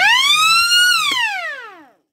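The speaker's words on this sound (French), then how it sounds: "C'est une sirène de type rotative." A loud rotary air siren wails at a steady high pitch, then winds down, its tone sliding lower as it fades out after about two seconds.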